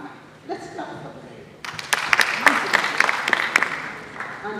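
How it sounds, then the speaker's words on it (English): Applause at a Ndejje University event, sharp individual claps rising after a moment of talk and continuing in an uneven, moderately loud burst from a modest crowd. "Let's clap for them."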